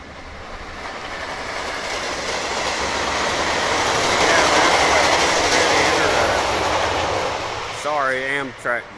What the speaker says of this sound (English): Amtrak just went by